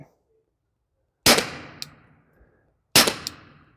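Two sharp, loud shots from a PSA Swagger Dagger 9mm pistol at an outdoor range, each followed by a short ringing clang of the round striking a steel plate, spaced about two seconds apart.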